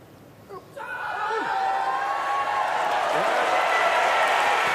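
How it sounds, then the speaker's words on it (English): A crowd at the Paris 2024 Paralympic powerlifting finals bursts into a roar of approval and applause after a lift, rising quickly from a quiet arena to a loud, sustained cheer. "Well, a roar of approval from the crowd."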